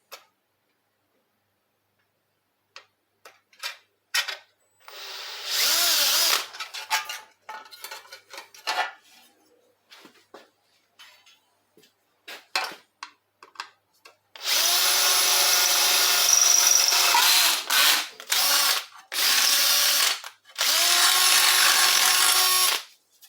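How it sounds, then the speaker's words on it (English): Power drill boring a hole through the center of a car suspension control arm, with several loud sustained whirring bursts separated by clicks and handling noises. "I have to drill a hole right in the middle."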